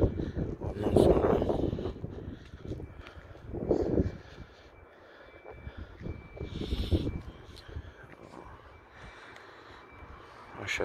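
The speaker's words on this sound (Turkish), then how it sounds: "Rüzgar çok ya. Karşıdan geliyor." Strong wind gusting outdoors on a rooftop pigeon loft, buffeting hard against the microphone in repeated loud rushes that ease between gusts.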